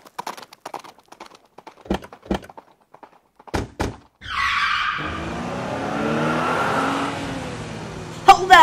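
A car is driven off and stolen: doors thunk shut, then a loud engine roars to life with tire skidding and accelerates steadily away, following brief scattered talk at the start.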